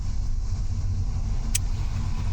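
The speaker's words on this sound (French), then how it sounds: "on est dans une voiture" Inside a moving car, a steady low engine and road rumble fills the cabin, with one brief high click midway.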